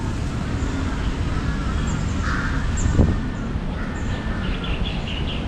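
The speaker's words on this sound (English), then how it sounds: "you always hear those crows. Always." Crows caw a few times at moderate distance over steady outdoor city ambience in the alleyways of Bangkok's Rattanakosin old town, with faint background murmur and no clear speech.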